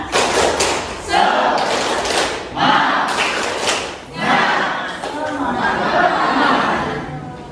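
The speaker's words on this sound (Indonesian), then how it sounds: "Nah, kita melakukan tepuk bersama-sama." A school class does tepuk semangat, rhythmic spirit clapping together, in bursts of claps and thumps that rise and pause roughly every second and a half, with loud group chatter and voices throughout.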